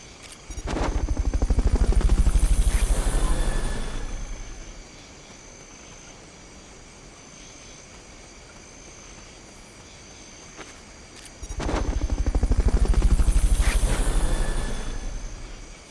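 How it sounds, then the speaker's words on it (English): A helicopter in the video game Metal Gear Solid Peace Walker sweeps past twice, each pass a loud swelling roar with rapid rotor chop that fades away, and a steady insect-like buzz of game ambience fills the gap between passes. "Fulton recovery helicopter is complete."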